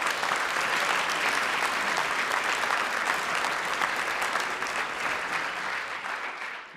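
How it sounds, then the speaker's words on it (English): An audience at a health summit giving a sustained round of applause, dense and steady clapping from many people that fades slightly toward the end. "all of you deserve a special round of applause"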